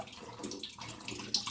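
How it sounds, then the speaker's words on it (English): Water trickles and drips from the expansion tank of a Potterton 28HE combi boiler, a faint, uneven splashing close by with no talking. "So whether that's water coming out the expansion tank"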